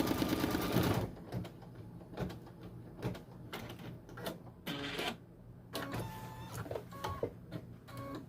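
A single needle embroidery machine stitches an applique onto a sweatshirt, giving rapid mechanical clatter in bursts with short pauses between runs, close by and moderately quiet.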